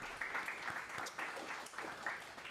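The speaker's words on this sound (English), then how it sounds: "Let's give him another round of applause." An audience applauds a podcast guest from Far Rockaway, Queens, on the Brownsville podcast, with steady clapping from a modest crowd that holds throughout and swells briefly now and then.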